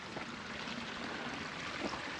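Water flowing in a stream in rural southern Laos makes a steady, fairly faint rushing wash that runs unbroken for a couple of seconds.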